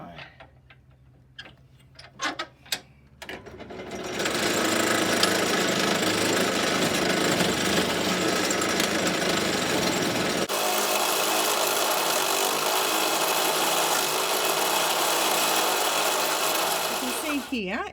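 A lathe turns and smooths an HDPE pencil holder, a steady, loud, broadband cutting hiss and whir that starts after a few light knocks and holds evenly for over ten seconds before easing slightly near the end.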